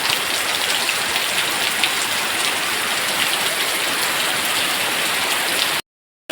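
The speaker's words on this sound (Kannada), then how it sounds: "ಜೋರು ಮಳೆ ಇವಾಗ" Heavy rain pours down outside a home in a dense, unbroken roar of drops on surfaces, loud and even throughout before cutting off near the end.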